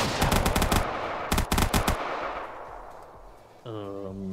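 Rapid bursts of automatic gunfire from the video game Minecraft crackle in two loud clusters, then fade into reverberant quiet before a tonal game sound or voice-like hum enters at the end.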